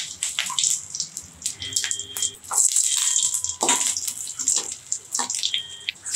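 Mustard seeds and curry leaves crackle and sizzle in hot oil for a Tamil mutton brain fry. A dense, steady frying hiss is broken by sharp pops and spits throughout, fairly close, with no talking.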